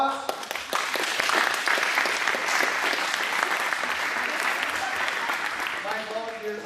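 Audience applause for volunteers on stage at a hypnosis show, a full round of clapping swelling then easing off, with a voice talking over it near the end.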